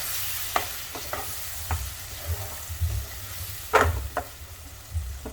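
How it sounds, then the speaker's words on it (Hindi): Ground tomato goes into frying spices for palak aloo, producing a close, loud sizzle with repeated scraping stirs and clatters of a spoon against the pan. "अब इसमें पिसा हुआ टमाटर डालेंगे"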